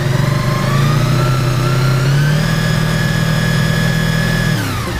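A motorcycle engine, on a bike being checked for a charging-system fault, runs steadily and loud, then revs up a little partway through before easing off near the end. No one speaks.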